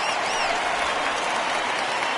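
Home crowd applauding at PNC Park in Pittsburgh during a Pirates game in MLB 19 The Show, a steady wash of clapping and cheering that holds at an even level throughout.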